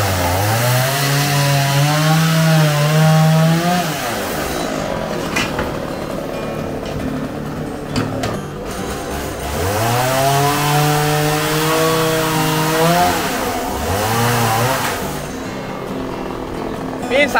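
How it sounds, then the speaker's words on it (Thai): A chainsaw cuts through a fallen tree outdoors at a school, its engine rising and falling in long revving passes, fairly loud and steady throughout. "จะแจ้งให้อบต. มาตัดไม้แล้วนะครับได้ยินเสียงเลยแล้ว"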